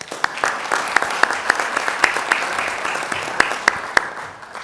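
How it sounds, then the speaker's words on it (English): Audience applause at a school board trustees meeting, a steady wash of clapping from a room full of people with sharp individual claps standing out, lasting several seconds without speech. "Please give her a round of applause."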